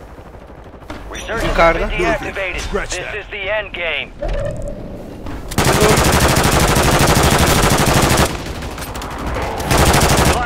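Gunfire in the video game Call of Duty Warzone, loud bursts of automatic fire and a long sustained volley from a weapon, close and continuous, with someone talking excitedly over and between the shots.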